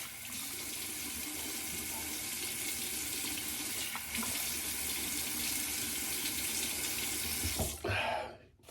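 Steady stream of water running from a tap into a sink while shaving soap is lathered for a wet shave, a constant close hiss that stops abruptly near the end.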